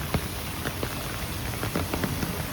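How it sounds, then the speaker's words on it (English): Steady heavy rain pours during a walk outdoors in Canada, a dense continuous hiss with scattered drops spattering close by and no voices. "I love heavy rain."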